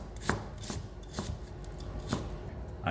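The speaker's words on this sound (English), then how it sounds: "Chop your onions however you want." Onions being chopped with a knife on a board for a large batch of chicken curry, a few sharp, spaced knife strikes close by over a steady background hum, with no talking.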